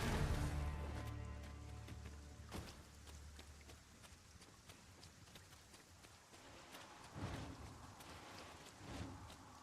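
Steady rain hisses across the ground in Dragon's Dogma 2, a broad wash of noise with scattered sharp ticks and thuds, plus occasional heavier bursts over a low rumble; no one speaks.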